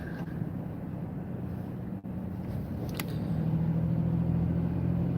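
A car driving through a residential neighborhood, heard from inside as a steady low engine and road rumble with a brief dip and a faint tick, no talking.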